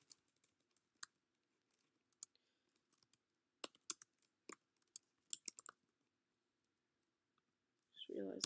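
Scattered clicks of typing on a computer keyboard while constraints are entered into Python code, irregular bursts of quiet keystrokes with pauses, ending in a brief louder rustle or breath close to the microphone.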